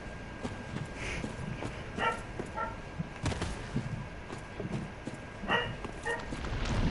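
Two pet dogs bark indoors, several short sharp barks and yips scattered across the stretch, heard through a gamer's headset over low game sounds.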